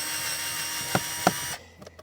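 A Fanttik S1 Pro electric screwdriver on low torque runs in reverse, backing screws out of a car's interior trim. A short motor whir with two sharp clicks cuts off abruptly, followed by faint rattles.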